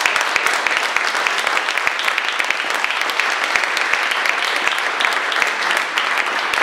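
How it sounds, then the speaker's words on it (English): A conference audience at a mobile marketing panel claps for the panelists, a dense, steady round of applause from many hands that continues evenly throughout without fading. "Please give them a round of applause."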